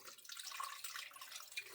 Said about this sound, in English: I'm using distilled water